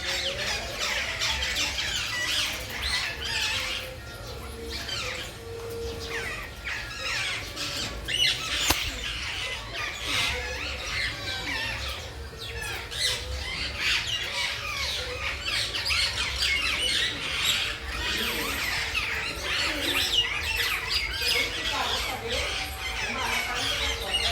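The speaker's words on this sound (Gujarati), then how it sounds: "એટલા બધા પોપટ આવી ગયા છે" Many parrots squawk and screech together in a home courtyard in a continuous noisy chorus, some calls near and others farther off, with faint talking underneath.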